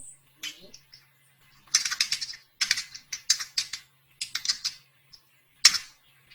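Typing an email on a computer keyboard while filling an online admission form: clusters of quick, crisp key clicks in short bursts separated by silent pauses, close and fairly quiet.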